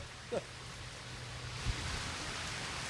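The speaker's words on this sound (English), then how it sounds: "Robert, my goodness, that wind and rain behind you." Hurricane Erin's wind and rain on St. Thomas in the U.S. Virgin Islands: a steady, moderately quiet broadband wash of rain and gusting air, with a couple of brief bumps, no voices.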